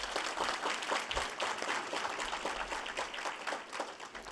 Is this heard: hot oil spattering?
no